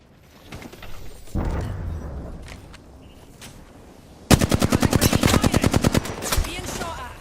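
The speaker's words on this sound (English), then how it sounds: "Getting shot at." Video game gunfire opens with a heavy rumbling impact, then a long, loud burst of rapid automatic shots fires close by, followed by a few trailing shots.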